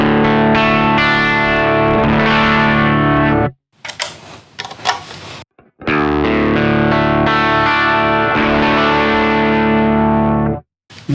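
Gritty, overdriven electric guitar chords through a Hologram Chroma Console multi-effects pedal, ringing with warbly modulation, broken by a short sparse gap of muted scratchy playing before the sustained chords return.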